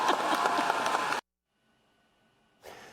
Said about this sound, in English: you may clap.